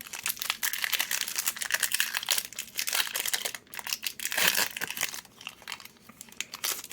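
A Pokémon Rivalités Destinées booster pack wrapper is handled up close, giving loud, uneven crinkling and crackling with short tearing rips and no voices.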